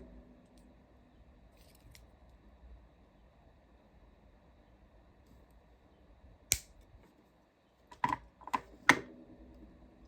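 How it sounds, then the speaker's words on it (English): Jewelry wires being snipped off a wire-wrapped cabochon pendant, a few sharp crisp clicks, first one then a quick cluster of three, close and distinct against near silence, with no voices. "We're going to cut these wires off on this side right here."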